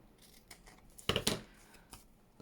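Scissors trim a paper junk journal card, making a few quick, close snips that stand out clearly against a quiet background.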